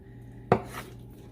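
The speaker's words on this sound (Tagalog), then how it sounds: "Hiwain muna natin to sa gitna." A knife chops once through pork belly on a board, a single sharp, close thud and crack of the blade striking, with a faint kitchen hum before and after and no talking.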